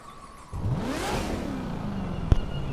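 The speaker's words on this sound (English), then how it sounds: "Let's go ahead and get that cold start." A 2019 Corvette ZR1 Convertible with a supercharged engine cold-starts in The Crew 2 on PS4, the loud engine catching and then swelling into a rising rev before settling to a steady, throaty idle.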